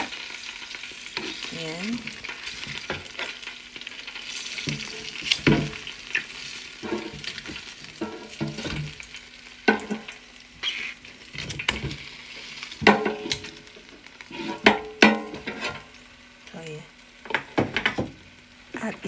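Chicken pieces sizzle and fry steadily in a pan while being turned and flipped, with repeated scraping, clattering utensil knocks against the pan, and brief speech over the cooking.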